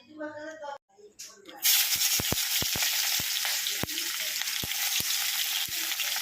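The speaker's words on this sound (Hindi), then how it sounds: "तो आमे पियाज को एबे फ्राई करबा" Chopped onions hit hot oil for chicken biryani and burst into a loud, steady sizzle. A voice speaks briefly before the frying begins, then a spatula knocks against the pan several times.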